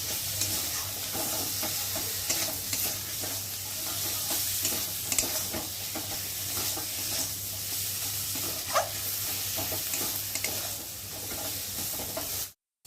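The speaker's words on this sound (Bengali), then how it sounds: "যতক্ষণ না মশলার একটা কাঁচা গন্ধ যাবে, এই ততক্ষণ কষিয়ে নেব" Spice masala is stirred and fried in a pan for a papaya and chicken curry, holding a continuous close sizzle with steady scraping and stirring throughout before it stops abruptly, with no talking.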